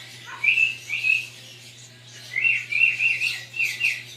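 A young pet bird, about five weeks old, gives short, high chirps in two bursts of several quick calls each, close and clear against a quiet room hum.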